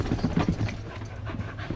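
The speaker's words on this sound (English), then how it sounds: "The dog's going absolutely mental." Excited dog panting in quick, close, rhythmic huffs, a short burst of rapid breaths with no talking over it.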